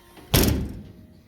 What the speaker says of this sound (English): got the door shutting good, seems like